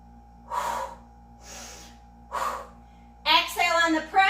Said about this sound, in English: Exhale on the press.